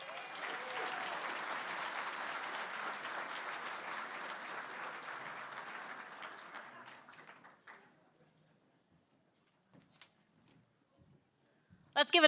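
An audience at the Long Island Imagine Awards, a nonprofit awards ceremony, claps steadily for the winners for about seven seconds before the applause dies away, leaving near silence and a few faint knocks.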